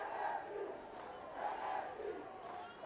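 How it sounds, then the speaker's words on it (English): A stadium crowd at a women's football match, South Africa vs Seychelles, singing and chanting in a steady, swelling wash of voices from a distance. "Well, the singing has started."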